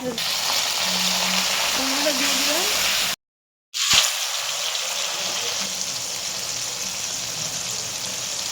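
Cumin seeds tempering and potatoes frying in hot oil, a steady loud sizzle that cuts out briefly, then returns with a clatter and keeps hissing under faint background voices.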